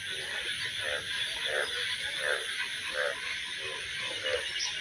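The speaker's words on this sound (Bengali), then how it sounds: "আর জল বাড়াতে কি ব্যাঙের শব্দ" A chorus of frogs croaking in a steady, repeating rhythm during village rains, with a constant high-pitched hiss of insects or rain behind them. No one speaks.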